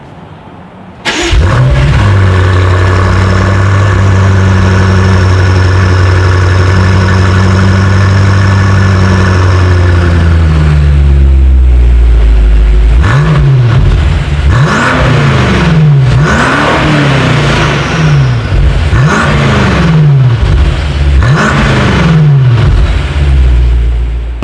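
BMW M5 F90 exhaust, loud and close, starting up and settling into a steady idle, then a run of sharp revs that rise and fall in quick succession near the end.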